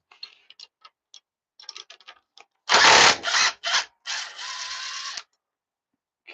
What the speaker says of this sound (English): Save time by using an impact.